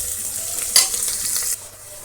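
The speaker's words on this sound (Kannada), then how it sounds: "ಇಷ್ಟಕ್ಕೆ ಈರುಳ್ಳಿ ಚೆನ್ನಾಗಿ ಫ್ರೈ ಆಗಬೇಕು ಸ್ವಲ್ಪ ಗೋಲ್ಡ್ ಕಲರ್ ಬರೋ ತನಕ ಫ್ರೈ ಮಾಡ್ಕೋಬೇಕು" Onions frying in a pan for chicken biryani, a steady close sizzle with a brief louder stir near the middle before it drops quieter.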